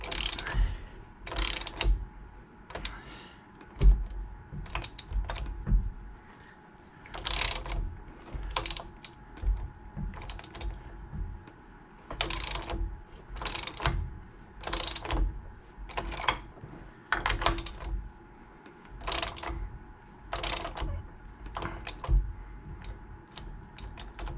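A puller tool presses a new yoke onto the pinion of a GM 14 bolt axle, giving bursts of sharp, close ratcheting clicks in an irregular rhythm, with quiet pauses between them.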